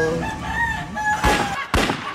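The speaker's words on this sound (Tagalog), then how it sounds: "Ingay ng manok" A rooster crows loudly nearby, a long drawn-out call with a couple of sharp bursts toward the end.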